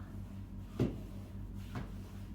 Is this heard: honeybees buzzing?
no